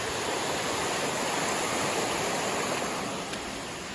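A rain-swollen stream on the Appalachian Trail in New Hampshire rushes steadily in a full, constant roar close by, with nothing else standing out.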